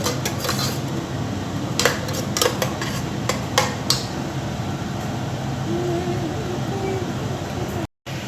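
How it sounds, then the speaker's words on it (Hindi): Tomato paste frying in a pan while being stirred, a steady sizzling hiss underneath with a few short scrapes and clinks of the spoon against the pan. "इसको भी 1 से 2 मिनट के लिए अच्छी तरह से भूनूंगी"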